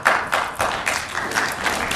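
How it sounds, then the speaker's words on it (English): An audience at a Florida governors event claps briefly, a short round of close, rhythmic hand claps from a small group that stays steady for a couple of seconds. "I'm reassured that somebody even joined you in the applause"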